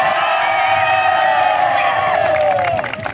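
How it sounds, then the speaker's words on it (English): Loud cheering and whooping from a crowd of college students at an Ethnic Day celebration, sustained voices rising together with scattered claps, tapering slightly at the end. "Let's hear a loud cheer for everyone once again."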